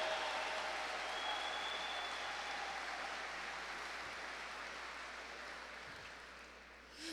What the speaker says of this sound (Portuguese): Pode aplaudir, pode aplaudir, pode aplaudir